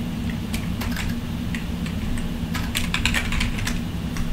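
Computer keyboard keys clack in quick irregular bursts, close and distinct, over a steady low background hum.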